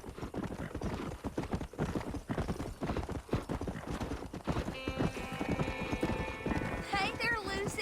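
Horse hooves clip-clop in a steady rhythm in the Red Dead Redemption video game, with a neigh and a tonal game sound rising near the end over continuous background noise.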